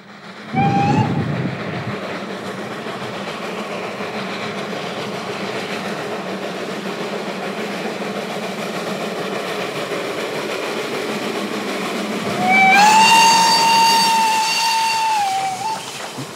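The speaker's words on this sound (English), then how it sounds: "it took some luck to get a shot of a train arriving at Chemnitz" A train pulls into Chemnitz station with a low, steady rumble, a short whistle near the start and a longer, louder whistle blast near the end; no voices.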